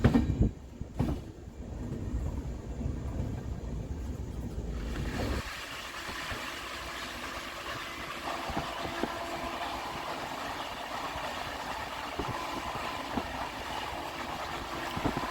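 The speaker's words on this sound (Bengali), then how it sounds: "প্রায় দশ মিনিট পরে আমাদের এখান থেকে ট্রেন ছাড়লো" The 12343 Darjeeling Mail, travelling from Sealdah to New Jalpaiguri, rolls along after leaving the station: a few loud bumps at first, then a steady, continuous rumble of wheels and carriages heard from on board.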